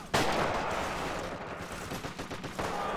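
Automatic weapons rattle in the Forgotten Hope 2 multiplayer battle in Tunis. A loud opening burst gives way to rapid, steady shots that thin out briefly, and a fresh loud burst closes the stretch.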